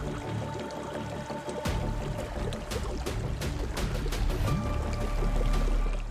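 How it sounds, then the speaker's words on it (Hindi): Water flows steadily through a cave passage at Patalkot, a dense continuous rushing wash that grows slightly louder toward the end, with no talk. "बहते पानी की ये आवाज"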